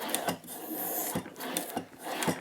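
A sharp blade on a cane gouger scrapes through bassoon reed cane in four quick, rasping strokes with short pauses between them, heard close up and alone.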